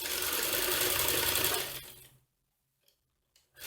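Sewing machine stitching around a doll's sole, a fast, dense whirring run that stops after about two seconds, followed by near silence with a few faint clicks.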